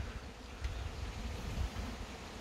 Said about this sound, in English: The bees are on clean-up